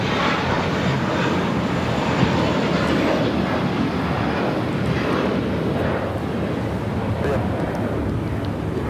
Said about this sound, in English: That was JetBlue Airways Flight 524 heading to JFK in an A321.